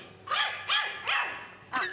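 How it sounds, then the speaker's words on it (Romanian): A dog barks four times in quick, uneven succession, close and fairly loud, with short pitched yelps and nothing else around them. "Ce e asta? E un cățel!"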